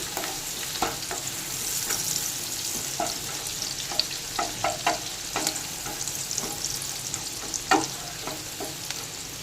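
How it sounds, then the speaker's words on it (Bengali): Chopped onion and garlic frying in white oil for egg prawn chowmein, a steady close sizzle with repeated quick scrapes and clinks of a spatula stirring through the pan. "আবারও কিছুটা সাদা তেল দিয়ে দিলাম। দিয়ে দিলাম পেঁয়াজ কুচি, রসুন কুচি, আবার একটু নেড়ে নেব।"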